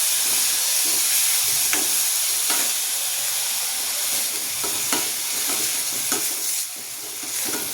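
Chopped onions sizzling and frying in hot oil in a pan for a Gujarati val bean curry, steady loud hiss with intermittent scraping clicks of a spoon stirring, close up and without talk.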